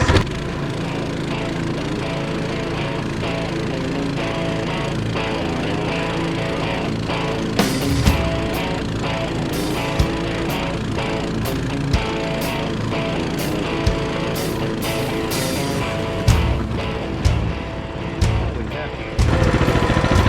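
A Coleman mini bike fitted with a torque converter labours up a hill, its small engine droning loud and steady for twenty seconds with occasional sharp rattles and bumps, and a voice speaks over it.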